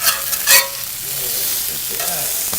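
A shrimp quesadilla sizzles and crackles on a Lodge cast iron grill pan, a steady hiss close by with a couple of brief scraping bursts near the start.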